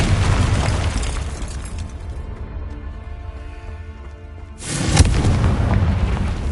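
A Confringo fire-blast spell erupts in Hogwarts Legacy on PS5 as a loud roaring burst that fades, followed by a second sharp explosive boom and a dense rumbling wash.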